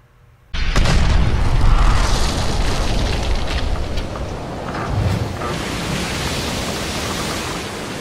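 A nuclear blast sound effect in a toy show erupts suddenly after a short quiet, a loud, sustained roaring boom of broadband noise that slowly eases off without ending.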